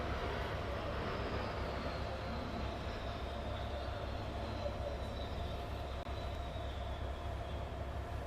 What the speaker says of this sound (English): 3 aircraft are flying together with the altitude difference